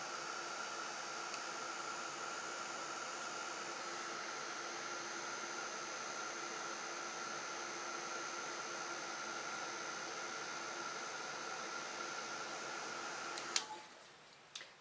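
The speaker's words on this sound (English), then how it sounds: "Then I'm going to heat that with my heat tool" An embossing heat tool blows steadily over glitter on a paper star in a card-making setup, a continuous airy whoosh with a faint whine that runs unbroken at moderate level before cutting off sharply near the end.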